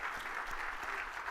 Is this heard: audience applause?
yes